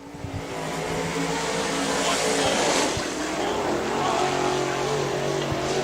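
Steelhead division race car on its final qualifying lap at Rome Speedway, engine roaring loudly and steadily as it passes, with a rising and falling drone over the whole stretch.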